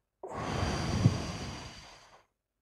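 One slow, deep breath taken as a breathing exercise, a long, close airy exhale lasting about two seconds and then fading out, with no speech.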